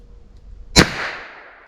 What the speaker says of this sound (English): And shooting these, even out of this 17-ounce Ruger LCR, it feels like shooting a cap gun.